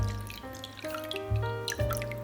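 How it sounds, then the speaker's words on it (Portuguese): Water, about half a cup, is poured into a sugar-free raw egg and lemon mixture, a soft liquid trickle and drip heard close under steady background music. "agora eu vou colocar água"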